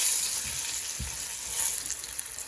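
Green chillies frying in hot oil in a pan, a steady close sizzle and crackle throughout with a few soft stirring knocks, no voices.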